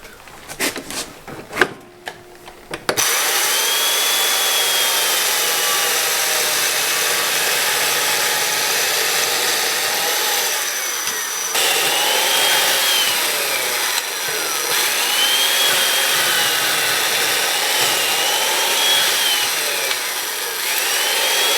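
A power tool cuts steadily through wood, shaping the housing and a square mortise for a mortise-and-tenon corner brace. A few sharp knocks come first, then a loud, continuous whine and rasp that wavers as the cut proceeds, with no talking.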